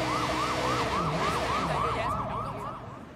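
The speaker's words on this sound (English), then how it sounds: "I indefinitely hear the siren in my left ear" A police siren in the Sleeping Dogs video game wails in steady repeated rising-and-falling sweeps, loud and close, with traffic rumble beneath, easing slightly toward the end.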